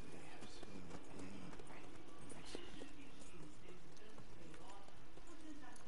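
Horse hooves clop at a walking pace in the video game Red Dead Redemption 2, soft and steady under low ambient background sound, while a voice speaks faintly now and then.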